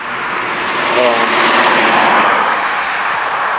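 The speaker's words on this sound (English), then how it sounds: "Here comes a car." At a rural bridge at night, a car passes close by as a broad, rising and fading wash of road and tire noise. A voice is heard briefly early on.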